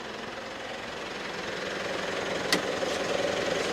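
An air compressor runs steadily, feeding air through a hose into a MAXTRAX Indeflate, a continuous mechanical drone with a rattling pulse that grows slightly louder, plus one sharp click near the end.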